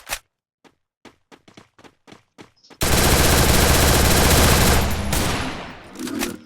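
MP40 submachine gun firing in a video game: a few sparse single shots and clicks, then a long loud sustained burst of automatic fire that tails off near the end.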